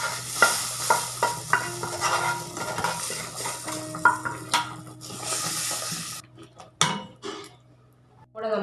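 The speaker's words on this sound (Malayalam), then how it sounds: "നമ്മൾ വഴറ്റിയെടുത്ത മുളക് പൊടി നമുക്ക് മട്ടൻ കറിയിലേക്ക് ഇട്ട് കൊടുക്കാം" Chili powder sautéed in oil is tipped into a sizzling Kerala mutton curry, giving a steady close fry with stirring scrapes and utensil clinks, easing toward the end.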